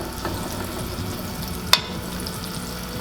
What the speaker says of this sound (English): we're gonna put a little bit of butter in here. We're gonna melt that down.